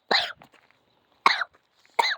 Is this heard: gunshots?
no